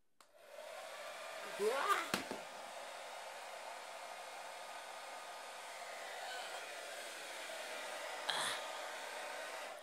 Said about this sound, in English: That blow dryer's a little strong.